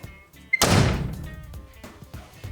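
A single heavy thud as a converted school bus's front door swings shut against weather stripping, close and solid with a short muffled decay, followed by a few faint knocks.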